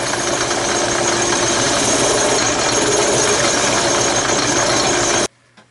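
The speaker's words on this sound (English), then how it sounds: "I can continue sanding until I reach the profile I wish to use" Sanding a wooden toy down to a shaped profile: a loud, steady, coarse machine grinding runs for about five seconds, then cuts off abruptly into near silence.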